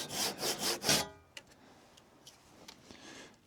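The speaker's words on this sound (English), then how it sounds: "Cut out wedges where the rafter is supported" Four quick, loud rasping saw strokes bite into a wooden roof rafter to cut a support wedge, then stop, leaving a few faint ticks and knocks in a quiet space.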